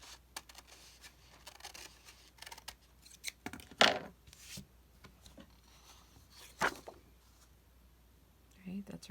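Scissors nip the ends of craft material, giving several short crisp snips scattered across a quiet stretch along with soft handling rustles and clicks.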